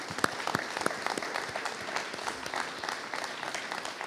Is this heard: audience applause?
yes